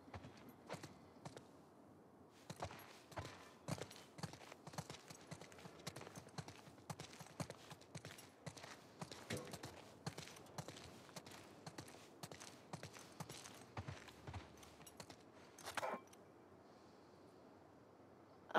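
Horses' hooves clip-clop at a walking pace in the video game The Last of Us Part II, with a steady rhythm of close, moderately quiet hoofbeats and a brief pause near the start.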